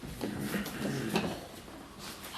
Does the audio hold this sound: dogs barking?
no